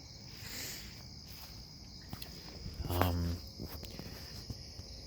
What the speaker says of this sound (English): There's a lot of bugs out tonight, a lot of crickets, and they're making a lot of noise.